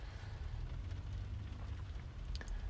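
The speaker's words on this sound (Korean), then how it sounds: "썬루프 빗소리를 들으면서 이렇게 영상을 하나 촬영할까 합니다" Rain falls on the sunroof of a car parked at a highway rest stop, giving a steady, close, soft patter over a low rumble, with a few sharper drop taps near the end.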